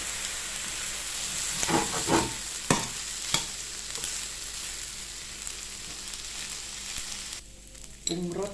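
Mackerel fried rice with chili, soy sauce and cha-om leaves sizzles steadily in a hot pan as a spatula scrapes and stirs in several uneven strokes, close up with a constant frying hiss underneath.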